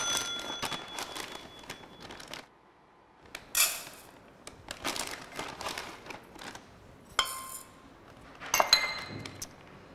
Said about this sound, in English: Just add everything into your bowl or rice cooker.